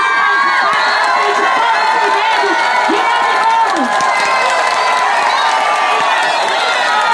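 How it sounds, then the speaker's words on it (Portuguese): A large outdoor crowd at a political rally on Avenida Paulista claps, cheers and whoops for the national MTST leader, loud and sustained, with shouting voices layered over the clapping. "E eu quero que todo mundo receba com uma salva de palmas o dirigente nacional do MTST"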